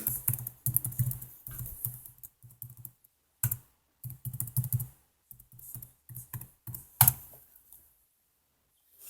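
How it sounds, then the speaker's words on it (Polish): Passwords are typed on a computer keyboard in quick bursts of close, crisp key clicks separated by short pauses, with no talk. "Wpiszę jeszcze kilka haseł"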